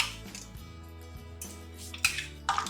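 A pressure cooker lid being opened after the pressure is released, with metallic clinks and clatter at the end, over a low steady background hum while mutton curry cooks.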